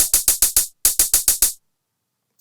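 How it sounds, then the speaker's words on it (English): Wide stereo hi-hats from a dubstep track: two quick runs of five crisp, hissy hits each with a short gap between, then silence and one faint late tick, with no voice. "Really wide stereo hi-hats."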